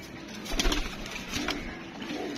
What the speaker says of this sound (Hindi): और अच्छी कबूतरी है जी।